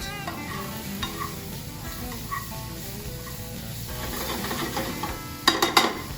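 Shrimp with garlic and shallots sizzles steadily in a pan for shrimp and grits, with a spoon scraping and stirring throughout and a few louder clattering scrapes near the end.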